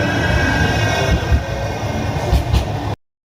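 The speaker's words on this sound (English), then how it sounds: "We're gonna miss him because of the tram." A tram rolls past on street rails, a loud, close rumble with rattling and faint wheel squeal that cuts off abruptly.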